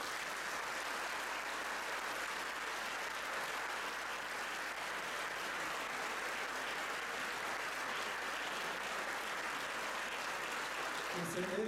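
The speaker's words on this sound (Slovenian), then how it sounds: "In to je gospod Mrak, en aplavz za njega." Sustained audience applause at an evening folk ensemble concert, a dense steady wash of clapping from a crowd that carries on for several seconds before starting to thin at the end.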